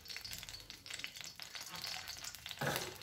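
Oil heating in a frying pan on the stove before mustard seeds go in, giving a soft, steady crackle and sizzle with light stirring scrapes near the pan and a brighter burst of sizzling near the end.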